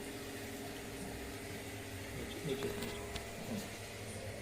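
Water runs into a glass bowl holding the inlet and outlet pipes of an Enagic SD501 water ioniser during cleaning, a steady soft trickling and bubbling with faint clinks partway through.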